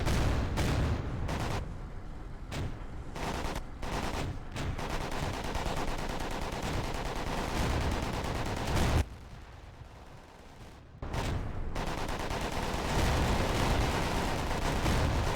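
Panzer IV D tank gunfire in a World War II battle video game, heard as a dense run of loud, sharp shots and booming blasts over a continuous rumbling battlefield din, with a brief quieter lull before the firing resumes.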